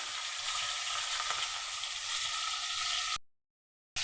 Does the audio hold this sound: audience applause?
no